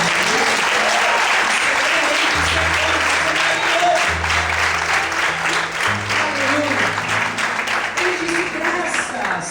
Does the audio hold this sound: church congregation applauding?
yes